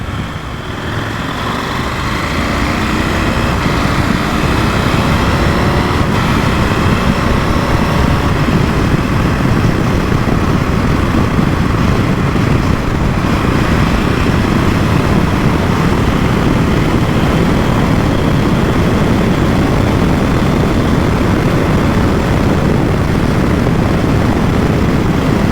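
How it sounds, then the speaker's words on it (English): Riding a KTM 890 Adventure R motorcycle with a low, non-adjustable screen at speed, a continuous loud roar of wind buffeting mixed with engine drone, steady for the whole stretch with no voices. "I just wanted to see what the wind blast or where the air hits me whilst I'm riding the bike"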